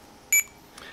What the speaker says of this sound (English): you hear the beeping sound. So you already got the data for the code 39.